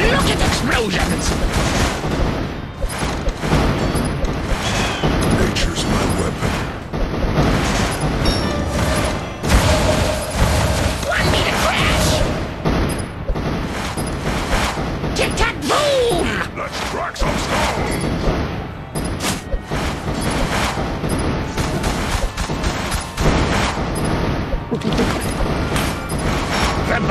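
Dense, loud barrage of repeated explosions and booming gunfire-like blasts from the tower defense game Kingdom Rush Vengeance, continuous and chaotic throughout with game voices mixed in.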